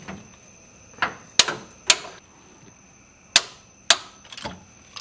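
Cylinder head bolts on a 500HP Hemi swap in a Dodge Ram being tightened with a torque wrench on new ARP fasteners, several sharp metallic clicks spaced irregularly and close by.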